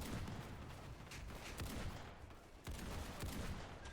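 Gunfire in a Roblox war game comes as continuous, fairly faint bursts of rapid shots and rattling fire, with a sharper volley near the end.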